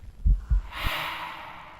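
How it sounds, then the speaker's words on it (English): Heavy ghostly breathing in the horror game Phasmophobia: two deep snorting inhales, then a long drawn-out breathy exhale, close and fairly loud. "stop heavy breathing on me"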